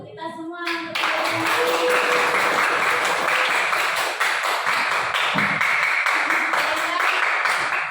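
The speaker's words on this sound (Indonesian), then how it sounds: "Kita tepuk tangan untuk kita semua." A room full of people claps together, steady dense applause that starts abruptly and carries on for several seconds.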